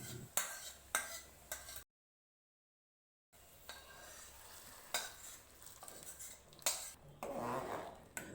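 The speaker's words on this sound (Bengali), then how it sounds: "এবার আঁচ কমিয়ে খিচুড়ির মধ্যে ফোড়নটা ঢেলে দেব" Fried tempering poured into khichuri over low heat, with close spoon scrapes and clinks against the pot, a brief full silence, then more stirring and a soft sizzle.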